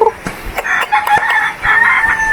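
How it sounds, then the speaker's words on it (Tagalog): Chickens cluck and a rooster crows in short, close bursts, with several sharp calls across a couple of seconds and no talk. "Chicken."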